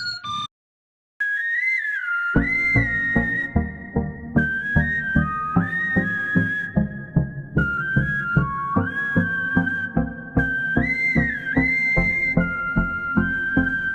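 A whistled melody over a pulsing musical backing in a song, bright sliding notes repeating a catchy phrase after a brief pause at the start.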